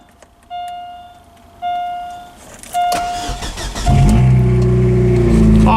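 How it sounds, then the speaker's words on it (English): Old high-mileage hot rod car engine starting at -11 degrees: three whining cranking bursts with pauses between them, then the engine catches and settles into a loud, steady rumbling idle, with no talking. "let's get this old hot rod to start."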